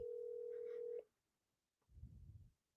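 A telephone dial tone hums steadily for about a second on a call to a seller lead, then cuts off, followed by a short low rumble after a pause.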